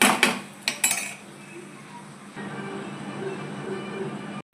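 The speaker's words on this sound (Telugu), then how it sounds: "ఇందులో వేసి ఇది కలిపేసి లిడ్ క్లోజ్ చేయాలి" A spoon clinks and scrapes inside a metal pot of chicken fry piece biryani, a few sharp knocks followed by a lid settling shut, then a low steady simmer hum.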